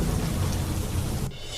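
Heavy rain pours in Deoria, Uttar Pradesh, flooding the roads with a dense, loud, continuous roar that cuts off abruptly near the end.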